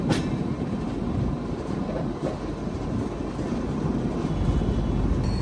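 The Humsafar Express, hauled by a WAP 7 electric locomotive, rolls along with a loud, close rumble of wheels on rail and rhythmic clatter over joints, heard from on board with no talk.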